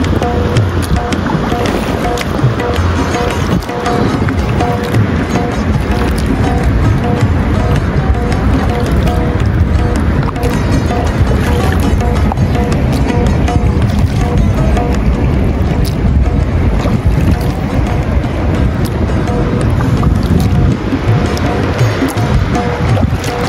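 A small rowboat is paddled along a river beneath a bridge in Adana, Turkey, with continuous loud rumble of water, wind buffeting the microphone and a dull, hollow wash throughout.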